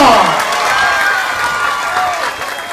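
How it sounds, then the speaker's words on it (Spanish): A crowd at a political rally in Sincelejo, Colombia breaks into loud applause and cheering as Gustavo Petro arrives, a dense burst that starts at full strength and holds steady, with a voice briefly audible at the start. "¡Recibamos con un fuerte aplauso a Gustavo"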